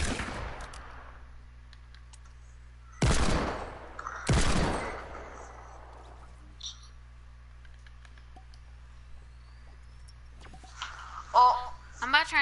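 Two sharp, loud gunshot bursts ring out in a video game about three seconds apart, each trailing off, over a steady low hum with faint clicks and a voice talking later.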